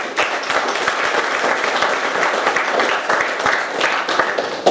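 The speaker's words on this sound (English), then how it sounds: "So please give him a round of applause." An audience gives a round of applause at a talk and film screening, a dense, loud wash of many hands clapping at once, steady and unbroken.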